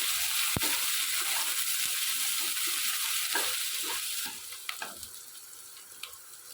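Semolina upma ingredients, with green chilli and ginger, frying and being stirred in a pan, giving a steady bright sizzle that eases off midway, leaving quieter sizzling with a few scrapes of the spoon.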